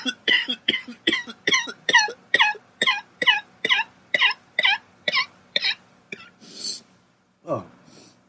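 A person coughs in a steady run of about fifteen sharp, evenly spaced bursts close to the microphone, then breaks off with a brief hiss and a throaty gasp.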